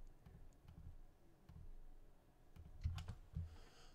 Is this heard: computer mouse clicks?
yes